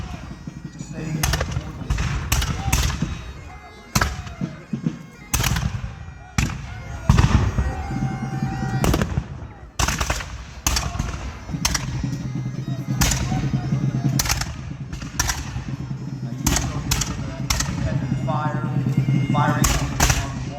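Reenactors fire guns at the fort wall during Fort Ligonier Days, a historical event, with sharp shots cracking out in irregular succession over steady crowd chatter and talk.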